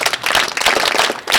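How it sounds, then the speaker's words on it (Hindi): Group of people clapping at a gathering of scouts and guides at the Mahakumbh, rhythmic and fairly close, with uneven bursts and short dips in the clapping. "बहुत बढ़िया, ताली बजा।"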